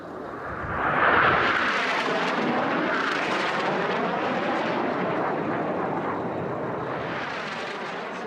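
A racing airplane flies over a pylon at the Stihl National Championship Air Races, a loud roaring engine that swells quickly to a peak, then sweeps past and trails off as it continues around the course.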